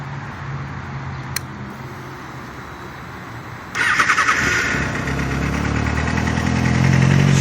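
A 2007 Kawasaki Ninja ZX6R sport motorcycle fitted with a Yoshimura RS-5 exhaust starts up close by, a brief crank followed by the engine catching and settling into a loud, steady idle.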